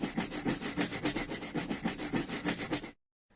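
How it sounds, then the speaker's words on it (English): Brisk scrubbing, a rough rubbing swish repeated in a fast steady back-and-forth rhythm, close and fairly loud, that stops abruptly near the end. "This is the sound of scrubbing."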